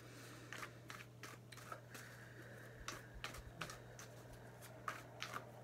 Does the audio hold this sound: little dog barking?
no